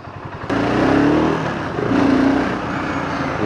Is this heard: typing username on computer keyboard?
no